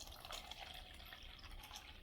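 Water trickles and splashes into a container close by, a soft continuous pour with small gurgles and drips.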